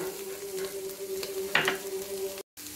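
Boiled chicken and cabbage fry in a pan with a soft, fairly quiet sizzle, a brief louder scrape or stir near the middle and a short cut to silence toward the end.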